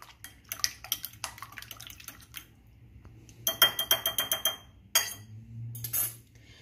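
Two eggs beaten in a bowl with a utensil while breading potato kababs, producing quick rhythmic clinks and taps against the bowl in short bursts, fairly close, over a low steady hum.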